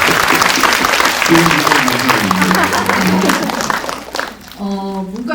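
Audience clapping at a film Q&A screening event, steady applause for about four seconds with a voice speaking over it, then fading as talking continues.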